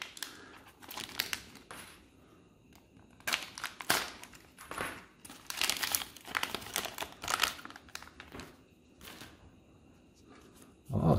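Parchment-style wrapping is crinkled and peeled off a vanilla cake from a British ration pack, bursts of close, crisp rustling and crackling separated by quieter pauses, with no talking.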